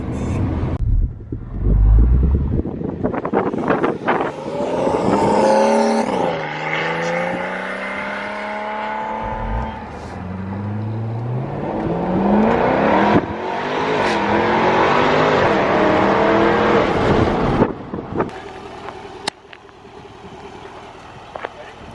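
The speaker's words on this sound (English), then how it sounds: "I let Tony drive the car for a sec just so I could hear it, and it sounds amazing like in person." A Jaguar F-Type R engine revs hard while driving, its pitch sweeping up through the gears in repeated climbs, loud and close with brief pauses between pulls, with voices talking over it at times.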